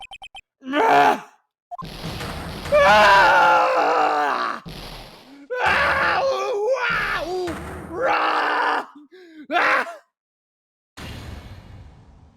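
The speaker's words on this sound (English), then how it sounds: "That scream. I've heard that scream before. Ah, the scream was Von Karma's, right!" A prosecutor character's scream in the Phoenix Wright: Ace Attorney game, heard as loud, strained vocal cries and groans in several bursts with short silences between, set against game sound effects.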